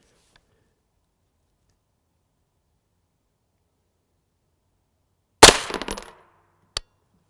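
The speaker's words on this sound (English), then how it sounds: "Upper right of the plate will be our first shot." M193 rifle round striking an RTS Tactical steel armor plate: one sharp, loud shot with a short ringing clang, followed a moment later by a second brief, fainter impact, in otherwise silent surroundings.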